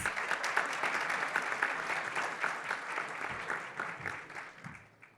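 A seated audience applauds as a guest walks onstage at a financial-careers event; full, continuous clapping from many people holds steady, then thins and fades out near the close.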